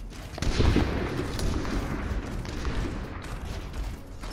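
An artillery barrage in a video game rumbles with a sharp thump near the start, then continues as a dense, steady low roar of distant booming for several seconds, with no voices.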